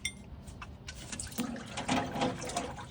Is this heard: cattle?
no